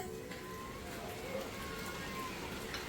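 Steady rain falling on a rainy morning, a faint, even patter with no break and no voices over it.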